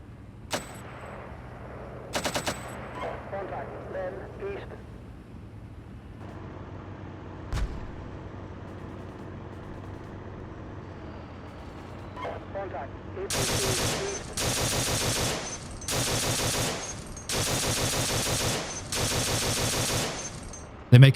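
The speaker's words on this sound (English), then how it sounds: "Militia from the Estonian Defence League take the first shots of the conflict, firing Carl Gustavs at the enemy and engaging with small arms." Simulated battle in a war video game, Estonian militia firing Carl Gustav launchers and small arms: scattered distant booms first, then sustained bursts of machine-gun and rifle fire, loud and repeated.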